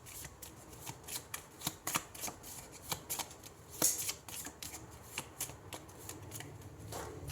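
Tarot cards are shuffled close up in a quick series of crisp riffles and soft slaps, with bursts of paper flutter repeating irregularly for several seconds.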